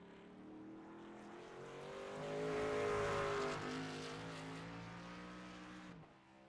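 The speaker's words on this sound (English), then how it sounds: "And with someone like Josh Stoles, who seems to have some decent pace in that truck, you cannot afford to give up these mistakes" Sportsman Legacy race trucks on track at Portland International Raceway, a revving engine that rises to a loud pass and then fades, with no talking.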